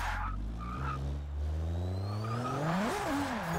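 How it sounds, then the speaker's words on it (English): A drift-tuned car in Forza Motorsport 6 revs hard, its engine note climbing and surging as the tail slides. Tires squeal loudly and continuously throughout the run. "Do love the sound of this car though."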